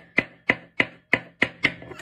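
A knife chops onion on a board in six sharp, evenly spaced strokes, close and crisp, with no other sound around them.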